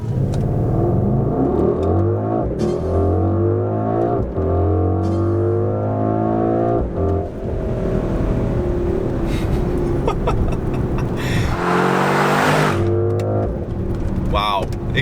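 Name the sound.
Mercedes GLE 63 S AMG Coupe accelerating, exhaust opening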